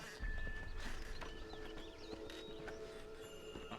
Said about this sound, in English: I'm surprised you're on a, you know, horse and cart and not just using a ship.